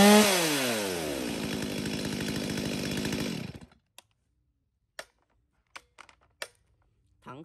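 A Stihl 023 chainsaw with a roughly 37 cm bar runs loud and close, revving down and cutting off after about three and a half seconds, followed by a few sharp clicks and taps in near silence.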